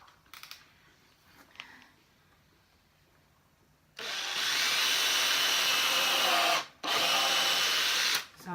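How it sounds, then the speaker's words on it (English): A power drill bores pilot holes into wood while a garden gate is being built, starting after quiet fumbling and running loud and steady in two long bursts with a short pause between. "So I'm just drilling in on a diagonal"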